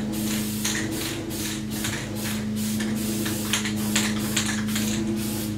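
An aerosol can spraying finish onto a cello-style guitar body, short repeated hissing bursts over a steady low hum, close and fairly loud with no talking.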